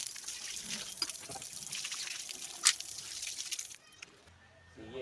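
Running tap water splashes over tractor front-wheel bearing parts as they are rinsed to wash off oil, a steady close hiss with a few knocks and clinks, thinning out near the end.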